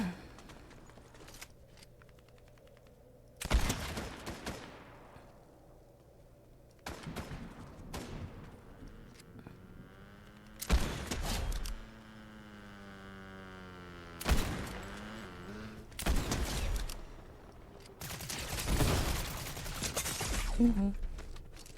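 Gunshots ring out nearby outdoors, several loud sharp cracks spaced seconds apart, with quiet pauses and someone talking in between.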